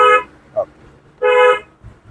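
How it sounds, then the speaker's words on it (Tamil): A car horn toots twice in a driving-lesson car, two short loud close honks separated by a brief gap, with a small stray sound between them. "ஒரு தடவை ஹாரன்"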